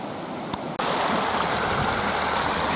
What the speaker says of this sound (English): Water's flowing pretty good now.